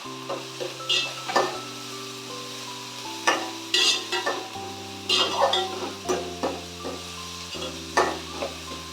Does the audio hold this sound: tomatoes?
yes